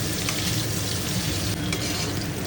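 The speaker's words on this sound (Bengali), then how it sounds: "আর এখন এখানে পনিরগুলোকে ভাজা হচ্ছে।" Paneer cubes fry in hot oil in a pan, giving a steady, close, dense sizzle and crackle that runs without pause, with no talking over it.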